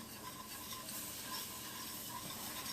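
A potato gratin mixture being stirred in a pan, a steady soft scraping and swishing with a faint sizzle underneath, continuous and close, with no talking.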